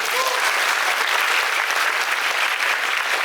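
A theatre audience applauds after a live pop song performance at a songwriting contest. The clapping is loud, even and sustained throughout.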